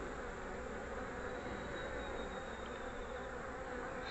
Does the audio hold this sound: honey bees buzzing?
yes